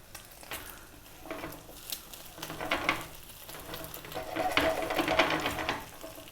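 Egg and pork fried rice frying in a wok over full heat, a continuous close sizzle with repeated scraping and stirring strokes that build louder toward the end, with no voices.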